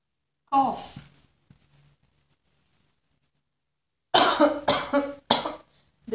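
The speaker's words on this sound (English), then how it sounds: "This is coughing." A person coughs once and then, after a quiet pause, coughs three times in a row, close and loud, in a spoken English lesson.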